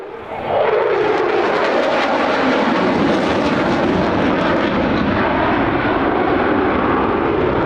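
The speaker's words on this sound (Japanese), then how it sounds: "F2B が進入してきました。" An F-2B fighter jet roars past at the Misawa Air Base air show in 2022, a loud, steady, close engine blast whose pitch sweeps downward as it passes.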